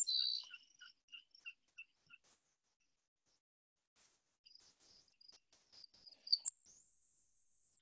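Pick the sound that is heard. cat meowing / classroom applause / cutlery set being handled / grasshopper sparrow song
grasshopper sparrow song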